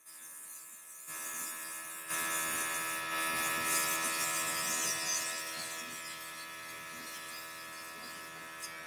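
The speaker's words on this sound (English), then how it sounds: "now I'm going to airbrush over it" A makeup airbrush sprays foundation with a close, steady buzzing hiss that kicks in after a second, grows louder a moment later and holds for several seconds before easing slightly.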